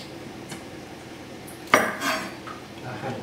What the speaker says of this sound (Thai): หั่นแป๊บนึงนะครับ